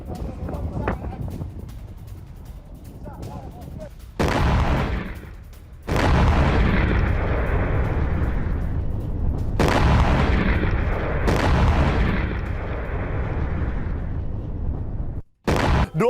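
Blasts and booming impacts from a missile and drone attack on an industrial zone in a Gulf country, with several loud bursts cutting in over sustained rumbling and noise, and a voice speaking over part of it.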